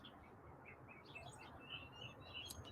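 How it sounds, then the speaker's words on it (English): Chirpy, a pet bird, chirps and sings in short high twittering bursts, faint and somewhat distant over a steady low background hiss, growing a little busier toward the end. "Chirpy is singing up."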